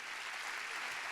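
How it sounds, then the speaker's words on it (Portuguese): A congregation at a church service claps steadily and loudly, a dense even wash of applause with no break. "Quem pode dar um forte aplauso ao Senhor?"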